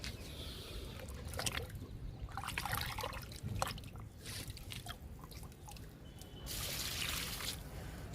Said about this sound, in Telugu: వేపాకు లిక్విడ్ అన్ని రకాల మొక్కలకి ఇవ్వచ్చండి.